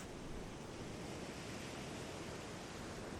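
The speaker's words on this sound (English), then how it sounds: "we will allow the sound of the surf," Ocean surf rolls in a continuous, soft broadband wash, faint and even with no distinct breaks or voices.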